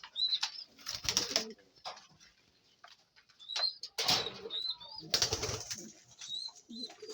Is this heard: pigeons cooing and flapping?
yes